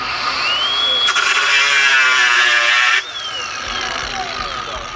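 Flex grinder with a thin cutoff disc cutting metal: a loud high whine that rises as the disc bites, a bright cutting screech for about two seconds, then the motor winding down.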